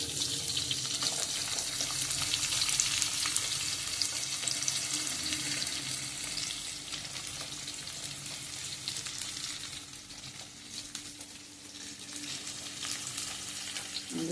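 Onion and garlic fry in a pan with a dense, continuous sizzle that holds close and fairly even throughout, with occasional stirring scrapes and no voices.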